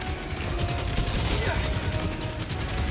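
Rapid, continuous gunfire in the shooter Helldivers 2 on PC, with dense repeated shots and mechanical clatter filling the whole stretch at close range.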